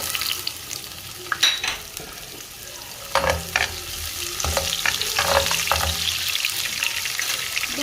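Chopped onion fries in hot oil for a pasta sauce, giving a steady crackling sizzle, with a few stirring scrapes and clatters of the spoon in the pan partway through.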